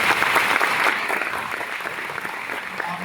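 Sustained round of applause from an audience at a company sharing event, dense and steady clapping filling the room throughout without pause.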